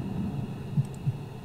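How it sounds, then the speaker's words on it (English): Soft, low heartbeat thuds in the horror video game The House, two faint beats spaced apart over a steady dark hum, with no voices over them. "And here we have the heartbeat again, so something's about to happen."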